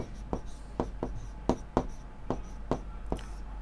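Chalk or marker strokes on a board during a Class 12 maths lesson, a series of sharp, evenly spaced taps and scrapes heard close over a low steady hum.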